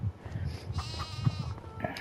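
Sheep bleat in a Farming Simulator 25 pen holding about twenty animals, with wavering, drawn-out calls overlapping amid soft farmyard rustle, fairly close and continuous.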